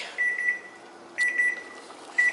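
A kitchen timer beeps while chili cooks, giving short high-pitched electronic beeps in three quick bursts with brief pauses between them, clear and close against a quiet kitchen.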